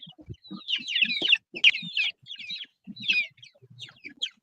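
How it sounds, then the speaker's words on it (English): Small chickens cluck and chirp in a rapid, busy run of calls, close and fairly loud, with short bursts and brief pauses throughout and no talking. "Listen to those little chickens."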